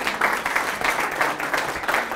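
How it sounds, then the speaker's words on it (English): An audience at an Ecuador event claps together in a steady, moderately loud rolling applause, rising and falling in gentle waves across two seconds. "And you can clap, that's all right."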